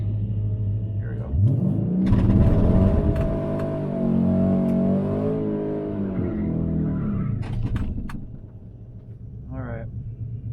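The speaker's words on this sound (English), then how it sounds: "Good burnout." A cammed Dodge Challenger R/T or a modified Kia Stinger does a burnout before a drag race, a loud, rumbling engine held at high revs that swells and then fades. Voices talk over it.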